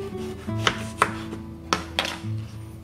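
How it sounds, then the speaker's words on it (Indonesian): A knife slicing tomatoes on a cutting board while cooking, giving about five crisp, close chopping knocks at an uneven pace over a soft background hum. "Ini diiris-iris maning tomate."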